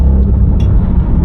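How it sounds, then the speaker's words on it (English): Road traffic rumbles past nearby, a loud, continuous low roar of vehicles lasting the whole moment. "I know there's a lot of traffic today."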